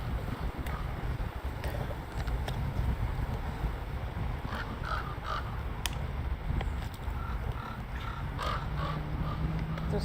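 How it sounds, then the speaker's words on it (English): Crows cawing at a distance in short scattered calls over steady wind noise and a dense, continuous low rumble, with a faint voice in the background. "Those crows making fun of me."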